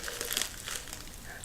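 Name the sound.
plastic bag crinkling as the tea is pulled out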